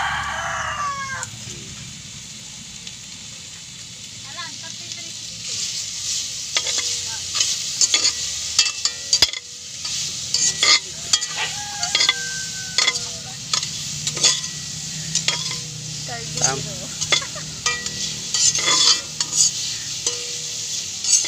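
Oil sizzles steadily while vegetables for pinakbet are stirred, with repeated scraping and clinking of a utensil against a pan; a rooster crows faintly in the distance.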